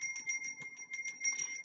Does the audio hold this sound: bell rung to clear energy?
yes